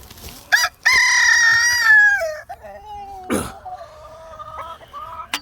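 Homestead hens sheltered under landscape fabric on a rainy day let out loud nearby squawks and drawn-out protest calls, followed by lower clucks and a sharp rustle, with no talking.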